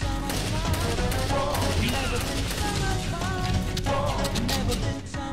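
Rapid gunfire from a Kalashnikov sniper shotgun in the video game Chernobyl Commando, a loud, dense, continuous barrage of shots that runs for the whole stretch.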